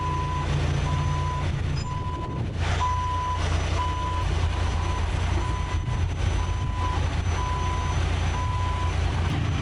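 A tow truck reverses with its backup alarm sounding evenly spaced single beeps, about one a second, over a steady low diesel engine rumble nearby.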